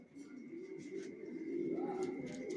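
Racing pigeons, young birds for sale, coo steadily at close range, a continuous low throaty warble that swells slightly louder toward the end with no talk over it.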